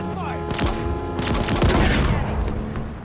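Marines fire their guns in a battle in the video game Halo Infinite, producing dense overlapping bursts of rapid gunfire with sharp zaps and booms in a busy combat mix.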